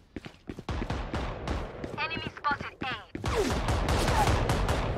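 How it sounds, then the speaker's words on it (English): Valorant gunfire crackles in quick sharp bursts, with rapid repeated shots, a brief warbling tonal squeal in the middle, then denser, louder firing toward the end. "where's them bullets coming from?"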